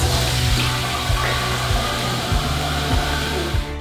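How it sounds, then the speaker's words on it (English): Water runs steadily from a newly installed tap in a home, a continuous close hiss and rush that holds unbroken before cutting off at the very end, with no talk. "Gotta turn on the water."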